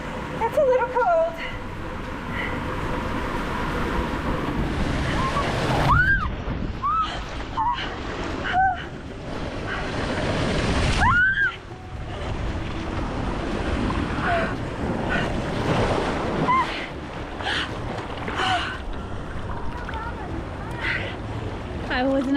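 A heavy waterfall pours into the Stormalong Bay pool at Disney's Beach Club, a loud, continuous roaring rush with wind buffeting, while people talk and call out close by.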